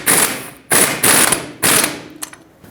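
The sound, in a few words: ratchet tightening sway bar link mounting nut on Ford F-350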